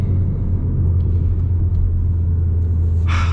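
An Alpine A110 GT driven quickly on a winding road gives a loud, steady low engine rumble, with a short crackling exhaust pop near the end and no talk.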